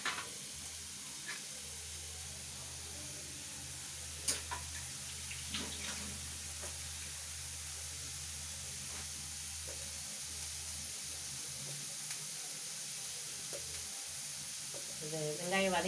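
Onions sautéing in a pan give a soft, steady sizzle with occasional faint scrapes of stirring, fairly quiet throughout.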